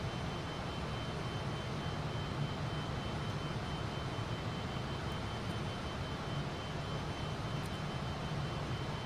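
Twin jet engines of a Fokker F28 airliner roar steadily at climb power in a flight simulator, a continuous broadband rumble with a faint whine holding near and loud for the whole stretch, with no voices.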